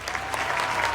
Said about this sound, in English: The people are clapping because they know it's good for them.